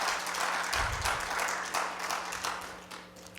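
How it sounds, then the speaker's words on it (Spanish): A church congregation applauds after the preacher asks them to praise the Lord, a steady wash of clapping from many hands that holds at an even level throughout. "Dele un aplauso al Señor."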